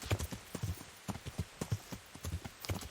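Horse hooves clip-clop in a steady, moderately quick gait while riding in Kingdom Come: Deliverance, fairly close and even, with no talk over them.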